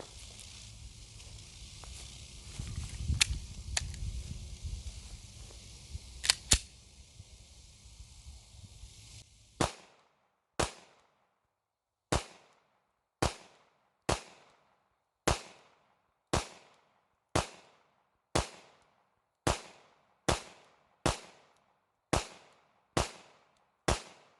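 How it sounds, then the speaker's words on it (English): After several seconds of muffled background noise, a Glock-style pistol fed from a P80 magazine fires around fifteen sharp, loud shots in a steady, quick rhythm, each cracking and then fading. "So we're gonna run this through the pistol and see what happens."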